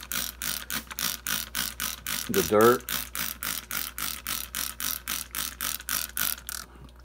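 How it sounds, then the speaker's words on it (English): A rapid, steady series of short hissing bursts as a trigger spray bottle sprays water over and over onto Java moss, with a brief voice partway through. "I'm going to spray it real good"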